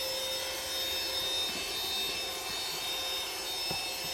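A car vacuum cleaner runs steadily throughout, giving a continuous airy roar with a thin high whine on top, close and even, with a few faint knocks and no talking.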